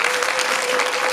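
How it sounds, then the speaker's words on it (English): Steady, dense applause from a banquet audience honoring the band director at the St. Helena band banquet, filling the room continuously without a break. "let's get a round of applause to y'all band record"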